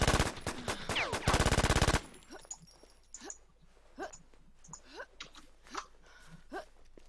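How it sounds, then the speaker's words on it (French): A semi-automatic M4 rifle fires in a battle royale video game, starting with a loud dense burst of shots and then a string of sharper single cracks at a steady, spaced pace. "y'a un mec qui me tire dessus à la M4 semi"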